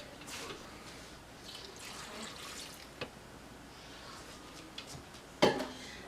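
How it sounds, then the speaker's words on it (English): Half a cup of water is poured into a blender while making almond milk: a soft splashing pour with scattered drips, then a sharp knock near the end. "we're going to add 1/2 cup of water to our blender"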